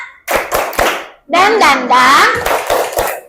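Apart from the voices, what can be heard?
classroom children doing a rhythmic clapping chant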